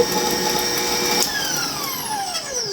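An electric mixer whirs steadily through strawberry trifle cream, a continuous close motor drone that shifts pitch partway as the load changes, with no talking.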